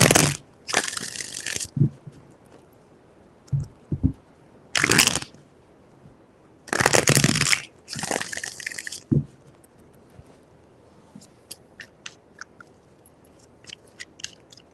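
Tarot cards being shuffled, heard as three distinct bursts of close, crisp riffling, the first and last lasting around two seconds and the middle one short, with quiet gaps and faint ticks between.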